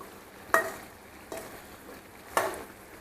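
Chicken fries quietly in oil in a pan, punctuated by three sharp clinks of a spoon stirring against the pan, close and unvoiced.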